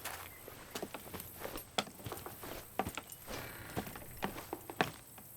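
Slow, heavy footsteps lumber up to a door in an audio drama, about a dozen uneven, close steps over a soft outdoor hiss.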